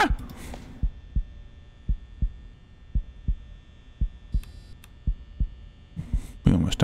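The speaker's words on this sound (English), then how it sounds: "Why is there a heartbeat?" A low, thumping heartbeat in a horror video game plays at a steady rhythm of about one beat per second over a faint hum, with brief electronic blips near the end.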